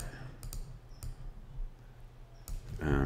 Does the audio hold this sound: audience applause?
no